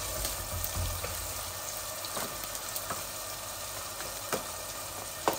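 Fresh ginger and garlic fry in a pan for a curry, giving a soft, steady sizzle with faint pops, low in level and without voices.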